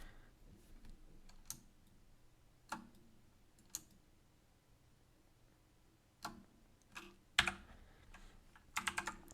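Sparse keystrokes on a computer keyboard come in small clusters with long gaps, faint and close, against a quiet room hum.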